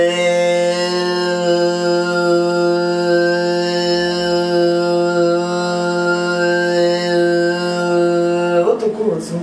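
Throat singing: one voice holds a steady, buzzing humming drone with strong overtones ringing above it. It sustains unbroken for about nine seconds, close and loud, then breaks off.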